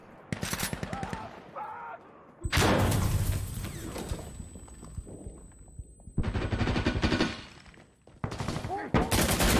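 Electric airsoft guns firing BBs during a game rattle in loud, rapid automatic bursts close by, several volleys in a row with voices shouting between them.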